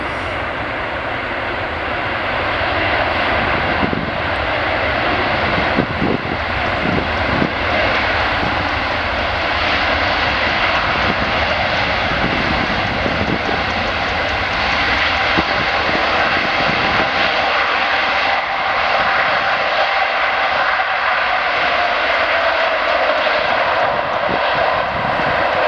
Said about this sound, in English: Here comes the A380.